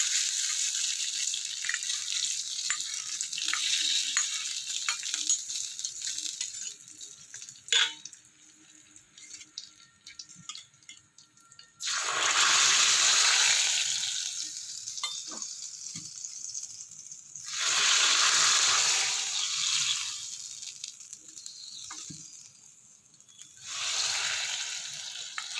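Mustard seeds, dried red chilies and curry leaves sizzling in hot oil for a drumstick leaf curry, bursts of crackling hiss that swell and fade in several waves, with quieter pauses and a few sharp pops between.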